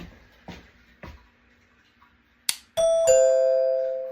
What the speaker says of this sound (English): at least we know the doorbell works